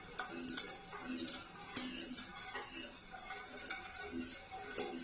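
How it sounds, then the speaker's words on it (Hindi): A spoon stirs a Marie biscuit dessert mixture in a pan on a stove, scraping and clinking steadily against the metal in a repeated rhythm, close and moderately loud, with no voices. "अब इसे मुसलसल चम्मच चलाते हुए हम पकाएंगे"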